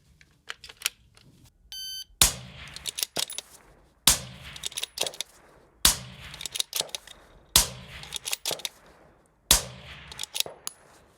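Five loud, sharp gunshots from a right-handed bolt-action rifle, fired one after another at roughly two-second intervals. Each crack has a brief echoing tail, and there are quieter mechanical clicks between shots.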